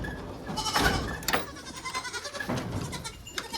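A pet goat named Zeus gives several close bleats in quick succession, wavering calls separated by short pauses, with no one talking over them.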